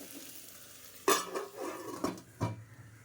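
Onions and tomatoes frying in a pan for a methi leaves and tomato curry, with a few sharp clinks of a utensil against the pan over a faint sizzle.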